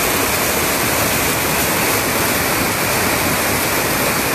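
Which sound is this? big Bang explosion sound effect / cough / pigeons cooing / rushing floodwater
rushing floodwater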